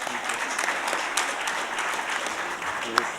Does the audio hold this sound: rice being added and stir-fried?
no